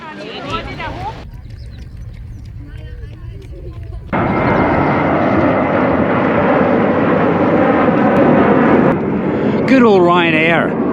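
A Ryanair airliner passes low overhead near an airport beside the beach resort of Playa de Palma, Mallorca. Its loud, broad roar swells in midway and holds steady for several seconds, while someone talks before and around it.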